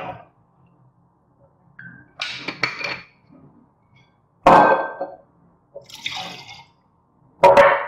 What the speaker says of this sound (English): We'll do one shot of vodka.